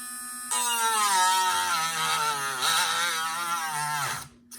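A cheap Harbor Freight rotary tool whines at high speed, then its pitch sags and wavers as it bogs down under pressure before spinning down.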